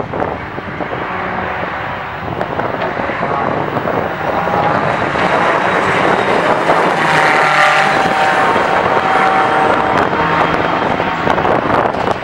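Ferrari race cars at Daytona accelerate through the short chute side by side toward the start-finish line, a loud sustained roar of engines that builds and holds steady throughout.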